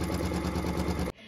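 A home embroidery machine runs a rapid, steady mechanical stitching chatter while sewing a placement line onto stabilizer for a Drunkard's Path quilt block, loud and continuous before stopping abruptly into a quiet hum.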